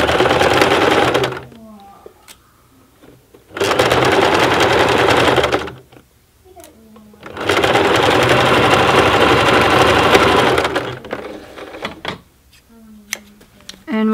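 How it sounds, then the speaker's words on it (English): A sewing machine stitches straight across the boxed corners of a tote bag lining in two long, steady runs of motor whir. Short quiet pauses with small handling clicks separate the runs, and a closing burst of stitching follows. "And we're going to sew in a straight line across."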